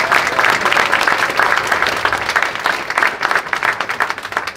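An audience at a kindergarten graduation claps in a dense, steady round of applause that stays loud throughout, with no speech over it.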